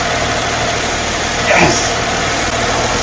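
A Mercedes SL R230 engine, just reassembled after a valve cover gasket replacement, runs at a steady idle close by. A brief cheer from a man rises over the engine hum midway through.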